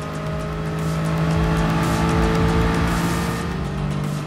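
Race car lapping Monza in GT Sport, a steady loud engine drone with shifting revs and faint tire noise carrying through the Parabolica, no voices.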